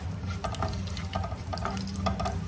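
Cumin seeds and bay leaves fry in about four tablespoons of hot oil for an egg curry, giving a close, steady crackling sizzle with light stirring scrapes and no talking.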